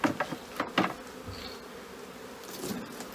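Intermittent honey bee buzzing close by while bees are handled during a hive transfer, with a few soft rustles and handling knocks; no voices.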